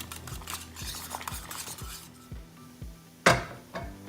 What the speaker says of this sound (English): you're just gonna mix that in there and quickly whisk it together, and that's gonna help thicken your sauce